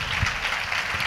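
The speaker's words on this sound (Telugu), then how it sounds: "చప్పట్లు కొడుతూ ప్రభుని గణపరచండి," A church congregation claps together during a Sunday service, making a dense, continuous wash of hand claps that holds at an even level for the whole moment.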